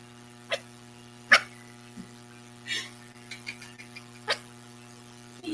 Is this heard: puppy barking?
yes